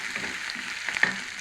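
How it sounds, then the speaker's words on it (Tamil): Sliced onions sizzling and frying in a pan for tomato chutney, a steady close hiss with faint stirring scrapes and a brief sharper clink near the end; no talking. "வெங்காயம் ஓரளவுக்கு வதங்கிடுச்சு"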